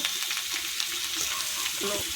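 Small mola fish sizzle with potato and tomato in a frying pan, a close, steady crackle of hot oil that continues evenly throughout, with light stirring and no speech.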